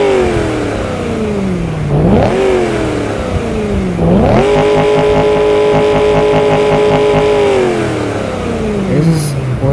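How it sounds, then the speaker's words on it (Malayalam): Car engine in a mobile driving game revving twice in quick rising sweeps, then holding a loud steady high drone, with the whine of the engine clear and close and no voices over it. "ഇതിൻ്റെ എൻജിൻ സൗണ്ട് ഞാൻ കേൾപ്പിച്ച് തരാൻ പോവാണ്."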